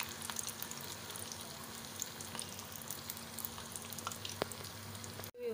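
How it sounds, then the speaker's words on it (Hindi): Vegetarian dinner pieces frying in hot oil in a home kitchen, a dense, steady sizzle and crackle close to the pan, ending with a brief sharp knock. "इसमें गरम तेल में डालना है, इसको मैं अच्छे से फ्राई करके निकाल के फिर आपको बताती हूँ।"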